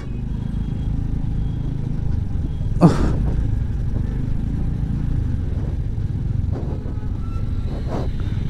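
Dense road traffic jam with cars and motorcycles: a steady low engine rumble throughout, with a sharp clatter near the start and a few brief horn or rev bursts later, no talking.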